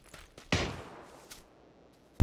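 In a video game firefight, a sharp blast of grenade or gunfire hits early, then fades into a decaying rumble. A faint crack sounds midway and another abrupt loud report cuts in right at the end.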